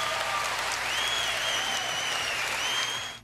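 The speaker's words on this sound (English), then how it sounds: "Applause, applause, pretty applause." Sustained audience applause at a live concert, a dense steady clapping wash with faint whistles or cheers, fading at the end.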